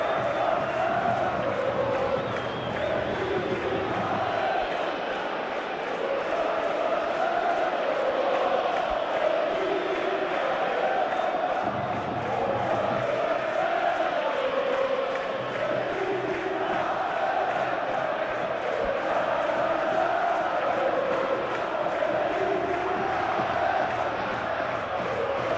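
Dense stadium crowd roars and chants steadily before the Atletico Madrid vs Barcelona Copa del Rey football match, a loud continuous wall of voices with rising swells of cheering throughout.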